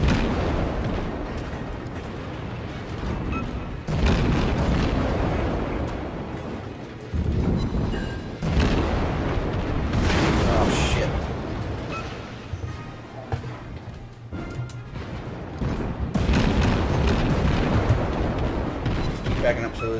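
Naval gunfire in World of Warships at tier 1: heavy booming salvos and rumbling blasts recurring every few seconds over a constant engine-and-sea drone, with a person talking at times.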